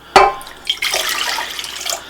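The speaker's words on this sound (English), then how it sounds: "So to begin to make the dough, we're going to add our water," Warm water at 110 degrees pours into a stand mixer bowl for honey challah dough, a sudden splash followed by a steady close rushing stream, loud and alone.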